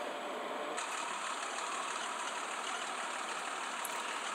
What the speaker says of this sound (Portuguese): Olha, escuta o barulhão do motor